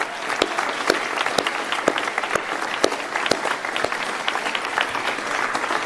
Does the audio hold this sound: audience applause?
yes